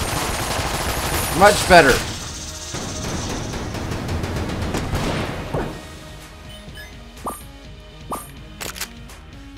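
Gunfire plays in the Nintendo Switch video game Enter the Gungeon. Rapid bursts of shots and impacts come first, then scattered lighter pops, with someone talking briefly over the game.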